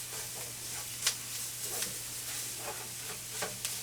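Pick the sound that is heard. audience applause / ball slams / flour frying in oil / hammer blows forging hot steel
flour frying in oil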